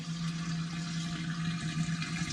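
A 20k variable-speed pond pump running at 35% pushes water through a koi pond filter, giving a steady rushing, bubbling flow with a constant low hum, fairly loud and continuous with no voices.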